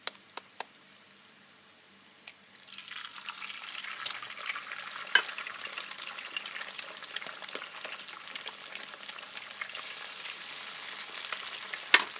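Eggs drop into a sizzling dhaba-style egg curry gravy, the frying hiss building and continuing steadily while a spoon scrapes and stirs the pan.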